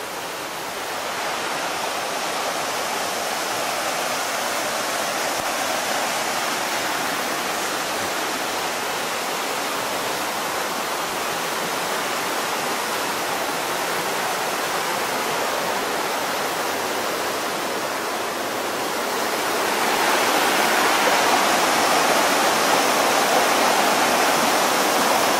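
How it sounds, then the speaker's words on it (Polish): Waterfall on the Łomniczanka stream at Łomnica Zdrój, a steady, dense roar of falling water heard up close with no voices, growing slightly louder and brighter near the end. "wodospad, który znajduje się na potoku Łomiczanka"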